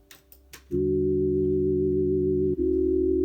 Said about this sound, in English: I hear a lot of low end from this, and it's a sine wave